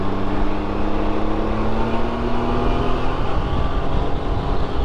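A 2019 Can-Am Ryker three-wheeled motorcycle accelerates hard out of a corner. The loud engine drone rises steadily in pitch over a continuous rush of wind, with no voices.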